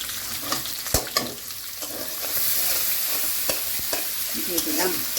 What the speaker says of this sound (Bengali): পেঁয়াজ কুচি, কাঁচামরিচ কুচি, আদা বাটা দিয়ে দিলাম।